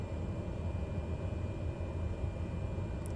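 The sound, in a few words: airplane taxiing, engine white noise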